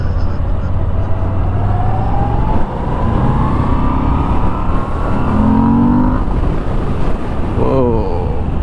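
Moto Guzzi V7 Special motorcycle engine pulling in third gear on a road ride, a steady loud drone with rising pitch as it accelerates, mixed with heavy wind rush across the microphone.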